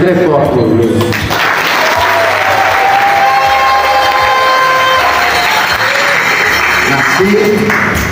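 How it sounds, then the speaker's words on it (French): Loud, sustained applause from a ceremony crowd honoring Father André Lubende on his 25 years of religious life, steady dense clapping with some cheering and voices mixed in throughout. "je vous prie de pouvoir acclamer très fort pour lui"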